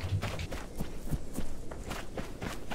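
Running footsteps in ARMA III (Breaking Point mod): a steady, quick rhythm of soft thuds over a continuous background hum, at moderate to low loudness.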